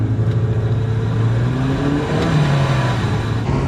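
A Mazda MX-5 Miata and a Porsche 911 accelerate hard from 30 mph in third gear, engine notes rising in pitch together as they pull, loud and close with steady road and wind noise.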